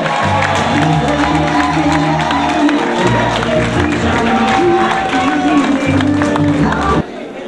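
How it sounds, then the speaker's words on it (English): A political rally crowd for the NDP applauds and cheers its team leader, loud dense clapping and whoops over pulsing background music, with voices mixed in until the sound drops off near the end. "Come on, give another round of applause to our team leader."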